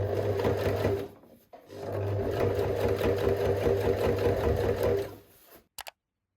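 Sewing machine stitching a fabric tube for a corset, running in two long steady bursts with a brief pause between, ending in a few quick clicks.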